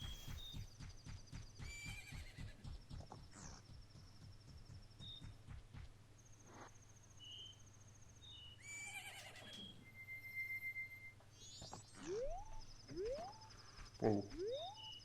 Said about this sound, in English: Isn't that your horse?